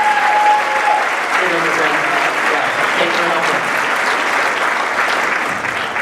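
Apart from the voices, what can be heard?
audience applause for Jeff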